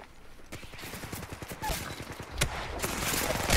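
Apex Legends gunfire rings out in sharp bursts and scattered shots that build toward the end, loud and close, with faint speech mixed in.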